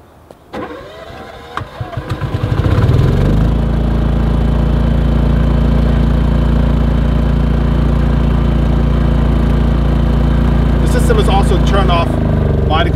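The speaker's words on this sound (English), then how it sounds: "this generator is integrated into the system, it's fully controlled by the PowerBloc controller, and it turns on automatically" Propane generator starting on its own as part of a PowerBloc solar power system in Big Sur: a cranking churn and sputter that builds over a couple of seconds into a loud, steady running drone, then shifts near the end.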